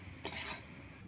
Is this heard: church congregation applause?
no